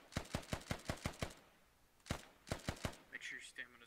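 Rapid bursts of rifle fire crack out during a Squad firefight, a fast string of sharp shots followed by a pause and a few more, with a voice talking over the end.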